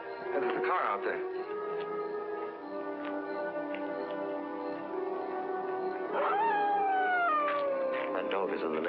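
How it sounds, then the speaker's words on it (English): A dog in the next yard lets out drawn-out howls at night, a sustained wavering tone followed by a rising then sliding howl near the end, steady and moderately close. "That dog is in the next yard"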